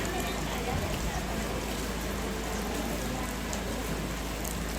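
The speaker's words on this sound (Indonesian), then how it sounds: "Hujan terus dari jam berapa tadi hujan nih?" Steady rain falling outdoors during a gathering in Toraja, a dense continuous hiss with no pauses and no voices heard during it.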